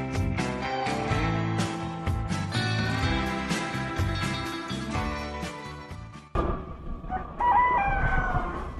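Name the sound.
rooster crowing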